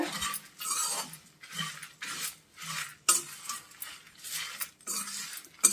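A spoon scrapes and clinks through a dry flax seed and spice powder mixture with tamarind in a pan on the heat, in repeated rhythmic strokes that come close and fairly loud, with no talk.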